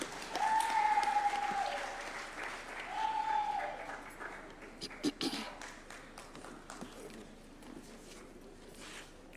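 A crowd applauds at a judges' swearing-in ceremony at State House, Nairobi, with steady clapping, a couple of high whistles or cheers riding over it, and background chatter as the applause thins out.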